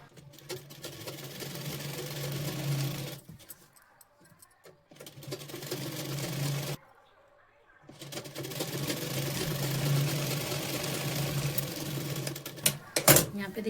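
A sewing machine stitches a blouse seam in bursts of rapid mechanical whirring, stopping and restarting with quiet pauses between runs and a sharp clack near the end.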